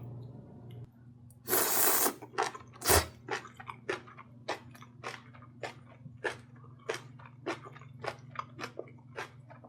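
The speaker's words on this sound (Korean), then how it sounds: "콩나물이 아삭아삭하니까 콩나물이랑 같이" Someone chews a mouthful of crunchy bean sprouts close to the microphone, a loud initial crunch followed by a steady run of sharp, rhythmic bites and crisp chewing over a low background hum.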